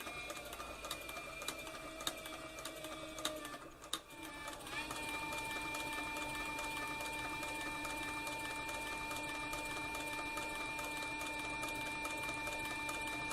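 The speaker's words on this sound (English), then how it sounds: "See, my bobbin winder over here is winding the bobbin as I sew this flank strap right here." A CB4500 industrial sewing machine stitching a flank strap runs with a steady, even mechanical whir and rapid needle clatter, close and continuous after a brief pause.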